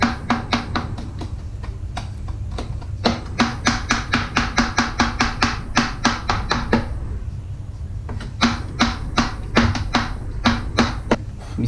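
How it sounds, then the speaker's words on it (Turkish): A knife chops fresh thyme on a board in rapid, crisp, evenly spaced taps, close and clear, with a short pause midway before the chopping resumes. "Şu taze kekikleri doğruyorum."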